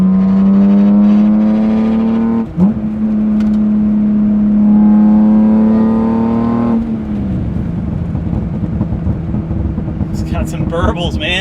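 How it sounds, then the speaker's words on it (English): A BMW E36 M3's S52 engine with an aftermarket exhaust revs hard and close, holds high, drops at each shift, then burbles on lift-off while a voice speaks. "Sounds good, man, that S52. It's a great sounding engine."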